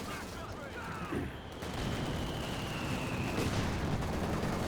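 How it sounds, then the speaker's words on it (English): MG34 machine gun firing in Company of Heroes, a continuous rumbling stream of automatic fire blended with battlefield booms, steady and fairly loud with some voice in the background. "MG34 firing away."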